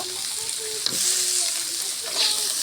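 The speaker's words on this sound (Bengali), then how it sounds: "পেঁয়াজ মরিচ লাল লাল করে ভাজা হয়ে গেছে" Onions and chillies fry in a hot pan, giving a steady close sizzle with light crackle, briefly stirred partway through; no talking.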